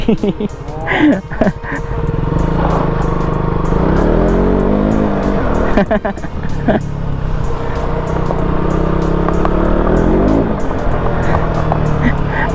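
A car slides across a dusty dirt road on a spontaneous road trip in Santa Felicitas, its engine roaring steadily with gritty broadband rumble, while people talk and laugh over it.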